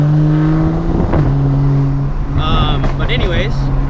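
A loud GT3 sports car roars past with a rising, then falling engine note, heard over the steady drone of the recording car's own engine, with a voice speaking over it.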